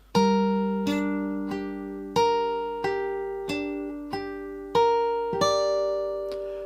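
Guitar plays the opening two bars of a piece from The Last of Us Part II, with two fretted notes struck together, sounding as about eight evenly spaced plucked attacks with ringing sustain, close and clear with no talking.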